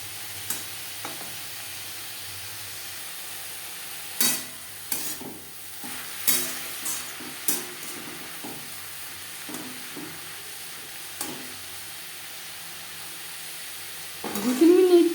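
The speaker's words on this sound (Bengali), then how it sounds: "লবণ হলুদ স্বাদের সাথে বেশ ভালো করে মিক্স করে দেবো।" Brahmi greens are stirred with salt and turmeric in a frying pan, with a steady sizzle and intermittent scraping strokes of a spatula that grow louder near the end.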